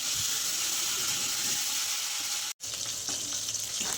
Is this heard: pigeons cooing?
no